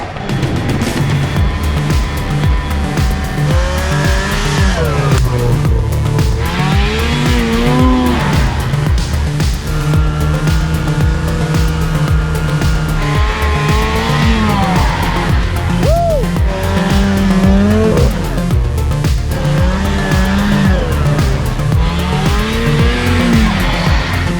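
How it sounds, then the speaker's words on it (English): Cheap secondhand snowmobiles ripping across snow on a remote winter trip, their engines whining loud and continuous, the pitch repeatedly climbing and falling as the throttle opens and eases. "I am so happy with these snowmobiles. They're just ripping it and nothing's going wrong."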